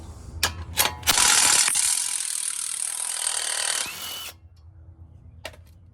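Close ratchet wrench turning a 15 mm sway bar link nut on a 2004 V8 Lincoln Town Car during upper control arm work: a few sharp clicks, then about three seconds of loud, fast ratcheting, then quiet.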